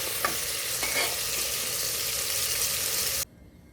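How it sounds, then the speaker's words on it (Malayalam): Broasted chicken pieces frying in hot oil in a pressure cooker give a loud, steady sizzle close up, with a couple of faint stirring clinks early on, before the sound cuts off abruptly near the end. "ബാക്കിയുള്ള ചിക്കൻ പീസും കൂടി ഇതേപോലെ ഫ്രൈ ചെയ്തെടുക്കാം"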